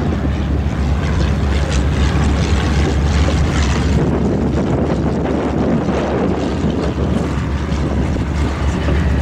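A Stampe biplane primary trainer flies past at a World War II airshow, its engine a loud, steady roar mixed with wind buffeting that eases slightly midway.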